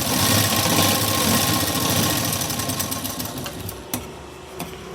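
A sewing machine runs continuously while stitching a blouse, its fast, steady mechanical chatter strong at first and then easing off, with a few sharp clicks near the end and no talk.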